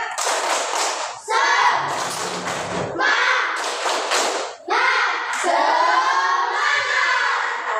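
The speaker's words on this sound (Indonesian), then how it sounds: "Tepuk semangat." A school class doing the rhythmic 'tepuk semangat' spirit clap, loud patterned bursts of many hands clapping together, broken by short pauses, with children's voices chanting along.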